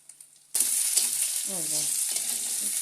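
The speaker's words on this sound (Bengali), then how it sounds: "এখন রসুন পেঁয়াজগুলো আমি ভেজে নেব" Garlic and onion hit hot oil with a sudden loud sizzle after a near-silent start, and a bright, steady frying hiss continues to the end while a faint voice briefly murmurs underneath.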